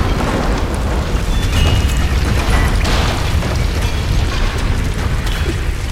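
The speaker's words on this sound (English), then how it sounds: "if I set this on fire, it'll blow up that barrel over there" A barrel set alight blows up in Tomb Raider, a loud continuous roaring blast and rumble that fills the space and keeps churning without letup, heavy low booms under crackling debris.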